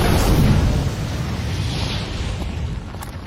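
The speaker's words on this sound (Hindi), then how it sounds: "Fire magic, लपटें।" Anime fire magic unleashing a burst of flames: a loud whooshing roar that hits hard at the start, then settles into a sustained crackling rush that slowly fades, with no talk.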